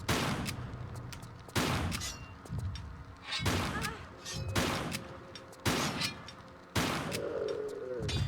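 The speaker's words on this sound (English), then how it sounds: "so we're just going to use the shotgun on these" Shotgun blasts in Tomb Raider 3, fired at Shiva statues in the Temple Ruins level: about six loud, evenly spaced booming shots, each followed by a ringing metallic decay, with no talk.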